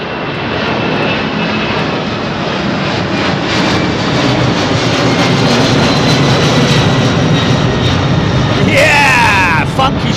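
Turkish Airlines A330 twin-engine jet taking off at London Heathrow, a loud, continuous roar that fills the whole stretch, with a rising whine sweeping upward near the end.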